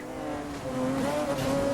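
A high-revving McLaren F1 race car engine in the video game Need for Speed: Most Wanted whines steadily, pitch climbing slightly, loud and close with no talk.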